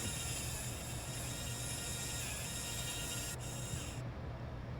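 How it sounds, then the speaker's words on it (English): A Harbor Freight belt sander smoothing wood and taking burns off, giving a steady, loud broadband whir with a high whine that runs unbroken throughout and changes tone near the end. "Just a Harbor Freight belt sander. I use it to smooth everything out as good as I can"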